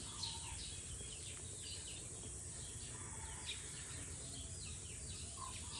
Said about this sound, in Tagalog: Ang tunog ay puro ibon.